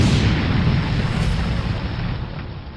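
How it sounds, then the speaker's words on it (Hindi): A loud, deep explosion booms at the start and rumbles on, slowly fading over the next few seconds. "ये धमाका कैसा है?"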